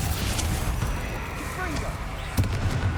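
Confringo fire spell blasts in the game Hogwarts Legacy, a few sharp bursts, one strongest near the end, amid busy game noise with a voice talking over it.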